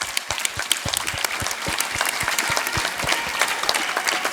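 A crowd at a school Independence Day celebration applauds students with steady, dense clapping that holds for several seconds, sharp individual claps standing out near the front.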